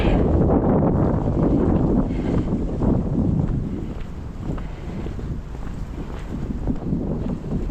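Strong wind buffets the microphone outdoors on a rural walk near a well and maple syrup buckets. It gives a loud continuous low roar that surges and eases over several seconds, with no speech.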